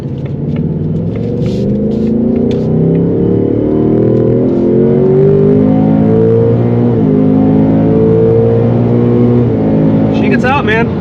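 A powerful V8 engine of a 2024 S650 Mustang GT roars loudly at full throttle, a deep sustained rumble climbing steadily in pitch, close by, with no voices over it.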